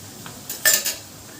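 Cauliflower (gobi) frying in a pan, heard as a few quick clinks and scrapes of a spoon against the pan over a faint sizzle, brief and close.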